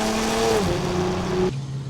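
A Nissan Z Nismo fitted with a track exhaust screams at high revs, a loud sustained engine tone that drops in pitch as it shifts gear, then cuts to a lower steady note, close and with no talking.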